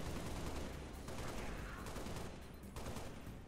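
Weapon fire in Halo 3: ODST crackles in dense, rapid bursts, a steady rattle of shots under game noise for the whole stretch, fairly faint overall.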